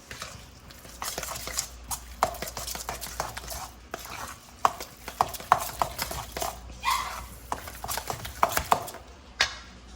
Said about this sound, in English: Now we're just gonna mix all of this together.